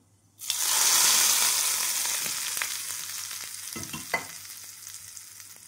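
Hot oil tadka poured into chutney bursts into a loud sudden sizzle, then hisses and crackles steadily while slowly fading, with a few sharp pops near the end.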